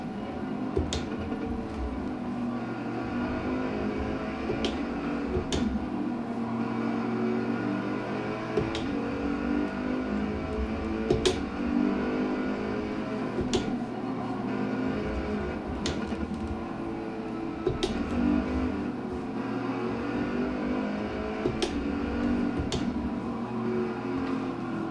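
A racing car engine in a sim racing game driven on load cell pedals, a steady revving drone rising and falling through gear changes, with sharp periodic clicks from shifting throughout.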